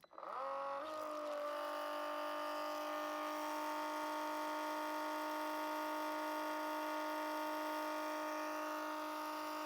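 A cordless transfer pump on a Milwaukee 8Ah Forge battery spins up within a second, then runs at no load with a steady high-pitched electric whine, close and alone.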